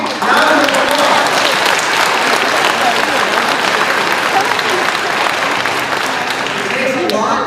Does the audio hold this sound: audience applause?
yes